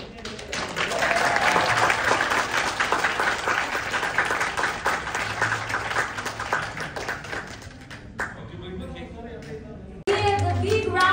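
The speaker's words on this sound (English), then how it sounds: "give a big round of applause" An audience gives sustained applause at a news channel's grand launching, dense and fairly loud for several seconds before fading, after which a person speaks.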